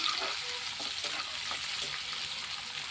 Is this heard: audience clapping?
no